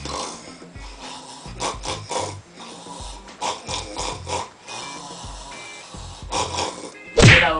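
A voice mimics a pig-like snore, with repeated grunting, snorting inhales broken by pauses, loud and close, ending in a sharper burst.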